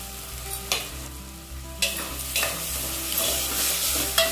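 Lentils (dal) roasting with turmeric, garam masala, ground chilli, coriander and salt in a pan, giving a soft sizzle broken by several sharp scraping stirs at irregular intervals, close and moderately loud with no voices.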